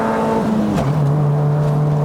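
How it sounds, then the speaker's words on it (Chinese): Honda City GM6 car with a six-speed manual gearbox revs steadily near 4500 rpm after a gear change, a loud sustained engine drone whose pitch drops slightly at the shift, then holds on a mountain road climb. "你看我一换挡了之后，它可以 keep 在4500转这样"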